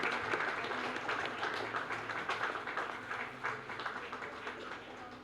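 A crowd at a community gathering applauding for Bala Srinivas, with dense, steady clapping that carries a slightly distant, roomy sound and fades a little toward the end.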